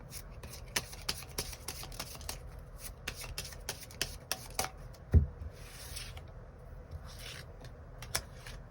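Tarot cards being shuffled by hand, with quick riffling bursts and crisp snaps repeating irregularly, close and fairly quiet, with one louder knock partway through.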